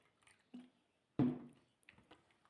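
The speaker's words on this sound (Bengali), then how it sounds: "এবার যা বীজ এবং আঁশ আছে এগুলোকে আমি এবার চিপে চিপে সব ফেলে দেবো।" Soaked bael fruit pulp is squeezed by hand in cold water to strip out the seeds and fibres, making a few soft, wet squishes spread apart, faint and close, with no talking.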